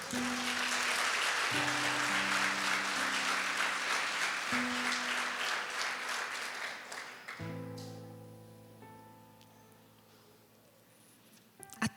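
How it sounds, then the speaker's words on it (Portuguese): Congregation applause in a Portuguese-language church service fades out over several seconds beneath sustained keyboard or organ chords that continue after the clapping ends. "Você pode aplaudir o Senhor por isso?"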